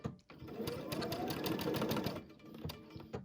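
A sewing machine runs in bursts while stitching quilt pieces, with rapid needle clatter that stops and restarts, close and fairly quiet.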